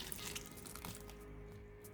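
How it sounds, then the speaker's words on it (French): Boiling water trickles steadily into a chocolate mousse mixture in a kitchen, a faint, continuous liquid pour over two seconds. "Et j'ajoute vers la fin l'eau bouillante."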